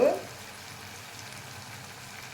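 Ginger garlic paste frying in a pan gives a soft, steady sizzle and bubbling throughout, with a brief louder knock at the very start.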